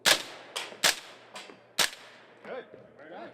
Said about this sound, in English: I even had the chance to fire a military standard rifle